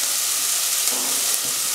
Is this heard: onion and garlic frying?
yes